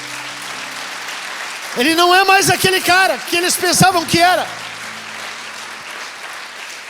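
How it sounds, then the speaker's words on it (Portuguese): Congregation applauding in a church during a sermon on the resurrection, a loud burst of clapping that rises and fades over a few seconds while the preacher keeps speaking over it. "Você pode aplaudir Jesus por isso?"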